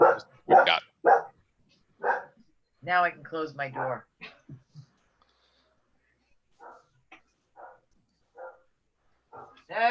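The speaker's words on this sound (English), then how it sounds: "My dogs heard something and decided the world was coming to an end." Dogs bark indoors in several loud, rapid bursts early on, then fade to a few scattered, fainter yips, with a person speaking between and over the barking.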